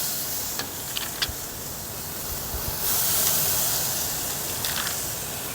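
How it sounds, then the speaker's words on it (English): Chicken breasts sizzling on a charcoal grill running at about 300 degrees, a steady broadband hiss that holds throughout and swells louder partway through, with a few faint clicks and pops, heard close and alone without talk. "Hear that sizzle."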